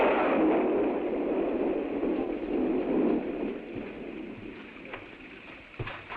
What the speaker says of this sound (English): It looks like quite a storm.